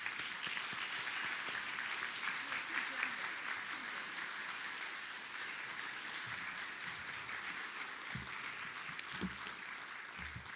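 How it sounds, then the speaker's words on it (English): Sustained applause from a campus forum audience welcoming a Senator, dense steady clapping that fills the whole stretch at even volume, with scattered low thumps late on. "Let's give her our warmest applause."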